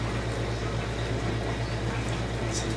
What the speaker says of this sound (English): pour some into the blender